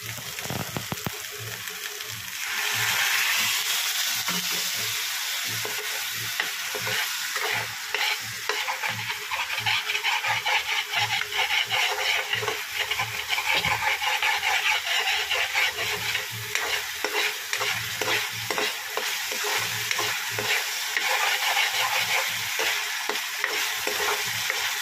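Raw banana kofta mixture is stirred and fried in a pan with a little water, giving a steady loud sizzle broken by rhythmic scraping strokes of the spoon throughout.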